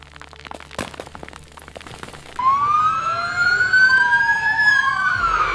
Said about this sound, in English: Sirens start minutes later.